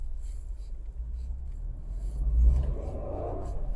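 A Maruti Suzuki Alto K10 hums along a road, heard from inside the cabin as a steady low engine and tyre rumble that swells briefly as it speeds up.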